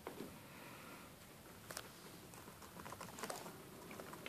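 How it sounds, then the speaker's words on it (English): Keys on a Lenovo Y500 laptop's backlit keyboard are typed in quick, light, irregular taps, faint and close, with no talking. "I think it will be fun to type on this keyboard"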